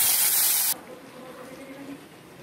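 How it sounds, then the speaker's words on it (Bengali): Tilapia frying in hot oil gives a loud, bright sizzle for under a second, then drops abruptly to a much quieter, steady crackle. "তেল গরম হয়ে গেছে, আমি মাছটা ভেজে নেব।"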